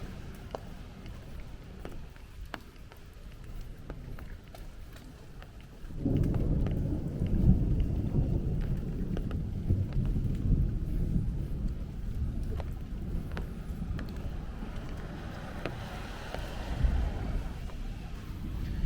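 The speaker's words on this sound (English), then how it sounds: "It was a lot of rain came down in a short period of time." Rain falls during a Brooklyn thunderstorm in Bay Ridge, light at first, then abruptly a heavy downpour with a low rumble of thunder, steady and loud on the street.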